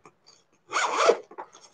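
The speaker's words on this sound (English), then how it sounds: "See how it's got the two zipper pulls?" A single zipper pull runs along the double zipper of a designer bag, making one short quiet rasping zip followed by a few small clicks, close by with no voices.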